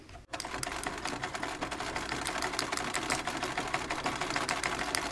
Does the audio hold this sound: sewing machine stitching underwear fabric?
yes